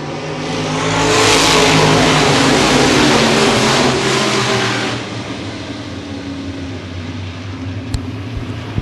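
A pack of modified race cars roars loud and close at the green-flag restart of the 2013 Gold Cup 50 at Baer Field Speedway, the engine din swelling as they pass, then settling into a steadier, more distant drone.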